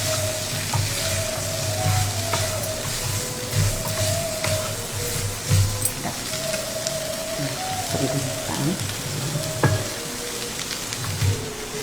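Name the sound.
black-eyed peas sautéing in oil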